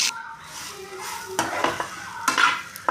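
Small eggplants fry in a pan with a soft continuous sizzle, broken by several sharp scrapes and clatters of a spoon stirring against the pan, close and alone.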